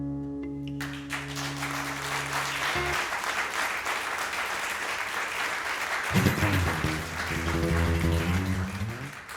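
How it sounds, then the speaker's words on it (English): An audience at a live music show claps steadily through most of the stretch, a broad dense patter heard as a song's final sung notes end and again as instruments return underneath it. "I feel bad cutting people off when they're clapping"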